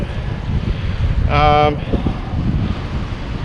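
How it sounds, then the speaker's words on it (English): Outdoors in the open, wind roars steadily and buffets the microphone in a low, continuous rush, with a short tonal sound rising briefly in the middle. "As you can see, we've got wind out here."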